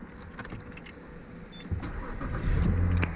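A BMW engine cranks and starts up close, the low mechanical rumble rising and settling into a steady idle after a brief click and rattle at the start.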